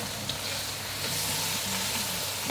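Nyonya sambal prawns stir-frying in a pan over moderate heat, a steady close sizzle with faint scraping of the spatula running throughout.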